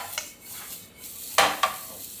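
Pulled pork is pressed and seared in a pan over high heat, a soft sizzle with a few scraping stirs and two sharp pan clatters near the end, with no one talking.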